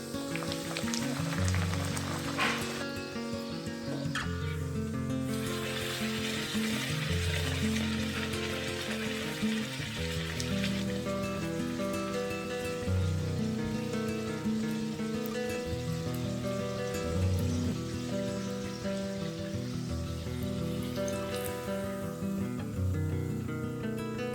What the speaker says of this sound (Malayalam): എണ്ണ നന്നായി ചൂടായി വരുന്നുണ്ട് പരത്തിയ ബട്ടൂരി ഇട്ട് ഫ്രൈ ചെയ്തിട്ടെടുക്കാം